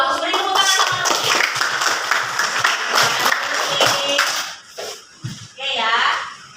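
Schoolchildren in a classroom clap for a classmate, a busy burst of hand claps mixed with young voices talking and chattering, fading toward the end as the clapping thins out.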